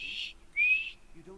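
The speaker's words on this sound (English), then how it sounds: "I know how to whistle." Whistling by a character in the video game Skyrim: two clear, high whistled tones in quick succession, the second a steadier held note, followed by a faint low voice-like murmur.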